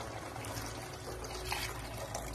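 Water is poured into cooking masala for a Tamil paruppu urundai kuzhambu (lentil ball curry), a soft continuous trickling and splashing heard close but fairly quiet, with no speech.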